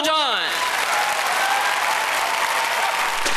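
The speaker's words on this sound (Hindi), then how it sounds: "तो दोस्तों, बाजीगर आर्ट और लैंगली के लिए एक बार जोरदार तालियां हो जाएं" An audience bursts into loud applause for performers, a dense, sustained wash of clapping close by that holds steady for several seconds, with a voice briefly speaking over the start.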